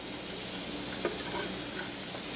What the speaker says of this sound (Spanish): Ahora vamos a cocinar unas 2 cucharadas, digamos, de cebolla picadita